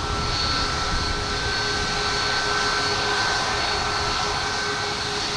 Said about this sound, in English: There's a JetBlue and A220 coming in from Miami